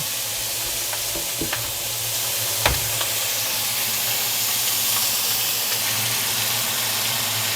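Thick-cut maplewood bacon fries in a pan with a loud, steady sizzle and hiss, a few light clicks and taps near the start.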